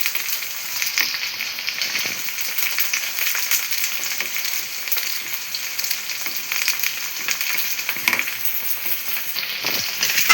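Sliced okra (bendakaya) frying in oil in a pan, making a loud continuous sizzle with occasional stirring scrapes, close up and steady throughout.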